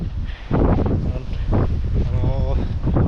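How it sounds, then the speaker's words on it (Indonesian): Strong wind storm on Mount Merbabu at a savanna campsite, heavy gusts buffeting the microphone in a loud, continuous roar while a person speaks over it. "Karena ada badai angin."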